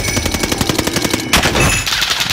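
Rapid automatic gunfire in Call of Duty Warzone, a loud, fast, evenly spaced string of shots for over a second, followed by a heavier blast and ringing aftermath.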